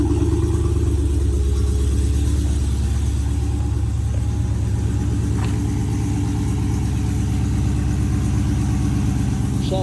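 A Dodge Hellcat Redeye with catless mid-pipes idles loud and close, its deep, steady, lopey exhaust rumble holding throughout with no pauses.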